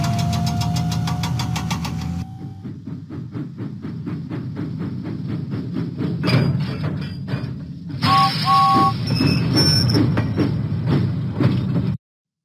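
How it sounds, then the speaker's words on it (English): A toy steam engine puffs out of the docks in a Thomas the Tank Engine video game, with rhythmic chuffing, a whistle and clanking effects over a steady game backdrop. The sound stops abruptly. "James pumped his pistons and puffed out of the docks."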